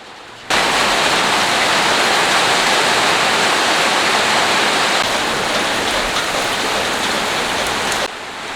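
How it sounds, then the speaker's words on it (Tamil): Heavy rain falls outside, a loud, dense, steady roar of pouring water that starts abruptly, holds constant for about eight seconds, then drops away. "வெளியில் நல்ல மழை பெய்யுது."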